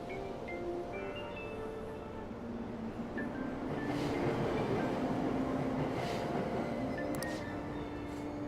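A subway train in the video game Persona 5 rumbles steadily at a station, a continuous loud low roar of cars with faint tonal hums and a few short rattling clicks, with no voices.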